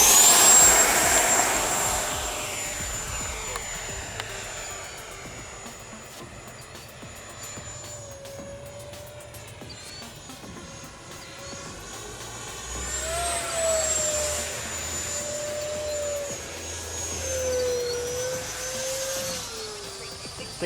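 A Freewing J-10 Vigorous Dragon 90mm electric ducted-fan RC jet whines through the air, its tone sweeping up and down with Doppler shifts as it makes a low pass, loud then fading and swelling again.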